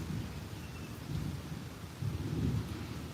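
Low thunder rumbles after a close lightning strike during an afternoon thunderstorm in Tampa, Florida, rolling in several swelling waves over light rain hiss, moderately loud, with no voices.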